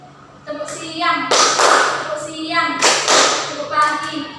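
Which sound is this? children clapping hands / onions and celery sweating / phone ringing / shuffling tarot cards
children clapping hands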